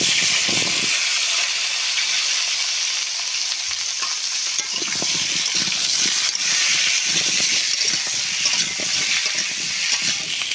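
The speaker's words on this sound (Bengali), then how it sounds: "মাছের তেলের ভেতরে এই যে মানকচুর আলুটা আমি ভেজে" Pieces of taro (mankochu) and potato are frying in oil left over from frying fish, making a loud, constant hiss and sizzle, with occasional stirring scrapes up close and no talking.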